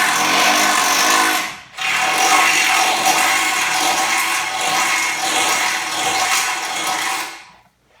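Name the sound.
drilling with 1/2-inch drill bit into Jeep bumper mount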